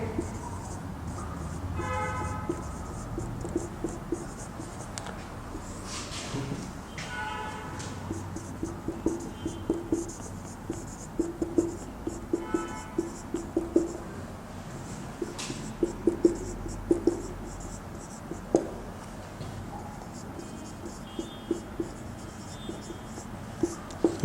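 Chalk or marker writing out a sentence on a classroom board, with scratchy strokes coming in short irregular bursts over a quiet room hum and no talking.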